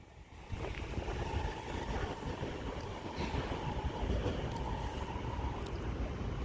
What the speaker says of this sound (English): 35371 and 105 departs Birmingham International now with the 11:34 London North Western Railway service to Birmingham New Street from London Euston.